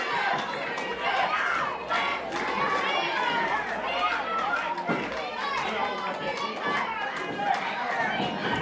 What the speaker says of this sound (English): The Dreamer chants have started.